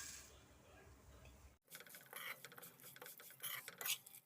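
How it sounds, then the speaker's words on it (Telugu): Semiya (vermicelli) frying and being stirred in a hot pan for kesari, a steady crackling sizzle with scraping and light metal clinks that starts abruptly after a quiet opening and carries on close and busy. "అదే పెనంలో సేమియాలు కూడా వేపుకోవాలి."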